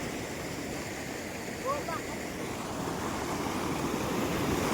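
A river rushing after heavy rain, a loud, steady broadband roar of water that runs unbroken throughout, with a couple of faint short calls over it.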